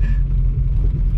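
A 1977 Dodge Mitsubishi Colt with an old contact-points ignition runs with a steady, close, low rumble, loud and even throughout a short stretch.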